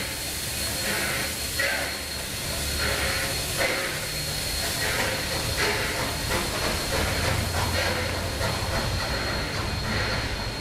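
Steam locomotive 3265 chuffs slowly and rhythmically while shunting in New South Wales, with loud hissing steam and rumbling railway noise nearby.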